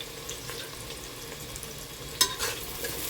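Chopped onions fry steadily in a pan for white mutton pulao, giving a continuous, even sizzle with a brief louder stir or clatter near the end.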